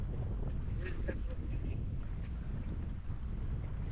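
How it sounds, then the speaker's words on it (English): Wind buffets a microphone on a small boat out mud crabbing, a constant low rumbling roar with a few faint brief knocks and sounds over it. "It's windy out here."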